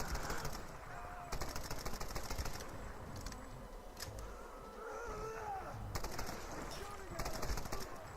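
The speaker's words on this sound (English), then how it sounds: "Pretty long distance headshot with the pistol." Gunfire from a pistol in the video game Tomb Raider comes in short rattling bursts, spread across the clip and moderately loud, over a busy game soundscape.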